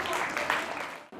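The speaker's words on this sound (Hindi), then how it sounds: "तालियां हो जाएं" Brief applause from an audience at a children's church convention quiz, a steady wash of clapping that cuts off abruptly near the end.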